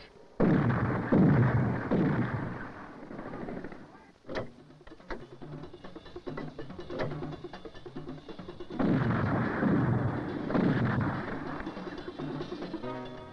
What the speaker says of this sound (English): The new Rarden 30mm cannon can certainly pack a punch.